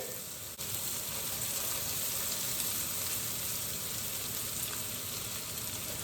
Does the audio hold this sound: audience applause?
no